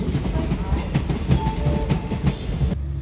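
Passenger train rolling past at close range, a steady loud rumble with rhythmic clickety-clack of wheels over rail joints, continuous throughout before cutting off abruptly near the end.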